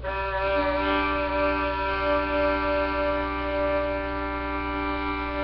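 A long, steady, slowly drawn bowed note on two strings sustains for several seconds, resonant and even, with no voices.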